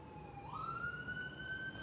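A police siren wails outside, faint and distant, its tone gliding upward and then holding a steady note, with no talking over it.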